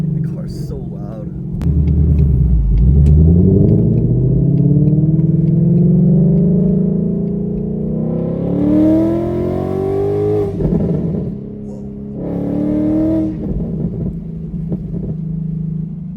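Tuned Ford Mustang GT with roughly 500 wheel horsepower revving hard through loud rising pulls, deep engine roar climbing in pitch, then dropping off and surging again, with a voice speaking over parts of it.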